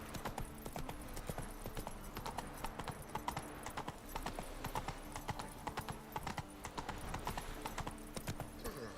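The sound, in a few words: horse hooves galloping in video game The Witcher 3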